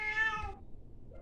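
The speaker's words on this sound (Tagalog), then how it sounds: "May pusa pa." A single short cat meow, fairly faint, followed by quiet room noise.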